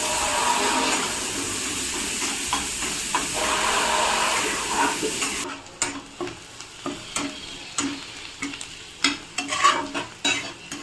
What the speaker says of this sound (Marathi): तर आता कांदा पण मी हा छान परतून घेते.